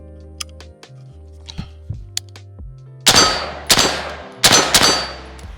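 A 300 Blackout rifle is handled, with light metallic clicks and small clanks early on, then several loud sharp bursts of clattering metal as the bolt is cycled, close up, with a low electrical hum underneath.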